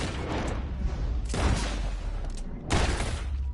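Gunfire from the Western video game Red Dead Redemption 2: two sharp, broadband blasts about a second apart, the first near 1.3 s and the next near 2.7 s, over continuous background game ambience.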